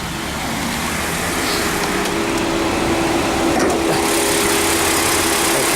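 Mitsubishi 2.4 litre 4-cylinder transverse-mounted car engine idling, a loud steady hum with a faint whine, heard close with the bonnet open and no talking.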